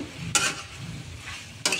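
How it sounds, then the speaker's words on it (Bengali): Cumin paste and mustard seeds fry in a pan for Bengali-style rosha, giving a continuous soft sizzle broken by two sharp stirring scrapes, close by. "তো এই অবস্থায় আমি এটাকে সুন্দর করে ভেজে নেব"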